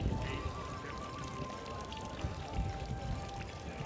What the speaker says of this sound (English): The correct way to execute the cleansing ritual is to fill the dipper with water.